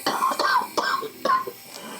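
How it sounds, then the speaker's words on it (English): Several short, sharp coughs in quick succession from a patient attended by ambulance crew, close and fairly loud, with a fainter cough trailing at the end. "Have you been coughing for a while?"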